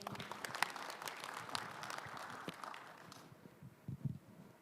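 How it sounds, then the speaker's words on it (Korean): An audience claps at a Korean railway workers' New Year gathering and safety pledge ceremony; the applause is fairly faint and distant, holds steady for about three seconds, then fades out. "박수 보내주십시오, 여러분."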